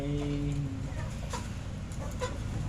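Chickens cluck close by in a steady farmyard chorus, with a few tonal calls near the start and soft background noise throughout.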